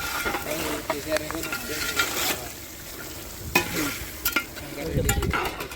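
Green chillies fry in hot oil and are stirred, making a continuous sizzle broken by scraping, clattering stirs. The sound is close and uneven, with brief louder bursts.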